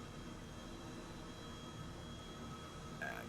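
Steady turbine whine and rotor hum of an Airbus H135 helicopter engine in Microsoft Flight Simulator 2020, an even continuous drone at moderate level with no talk.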